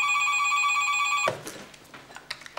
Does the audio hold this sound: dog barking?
no